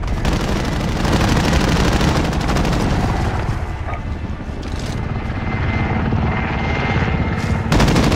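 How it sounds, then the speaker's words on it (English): An attack helicopter in Call of Duty Warzone makes a steady, loud rotor drone that fills the scene, mixed with bursts of distant gunfire and with no one speaking. "Hostile attack chopper carrying cash."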